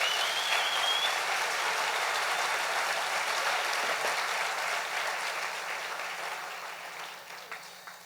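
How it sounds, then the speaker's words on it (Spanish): A church congregation claps together in a sustained, dense wash of applause that slowly fades toward the end. "Denle un aplauso al Rey bendito."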